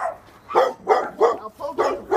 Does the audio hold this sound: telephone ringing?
no